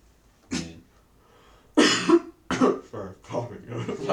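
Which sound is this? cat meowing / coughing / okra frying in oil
coughing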